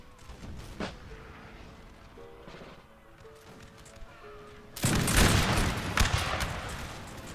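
A musket volley erupts in the Napoleon Total War video game, a sudden loud crackling burst of many overlapping shots after a quieter stretch of scattered distant fire and faint music.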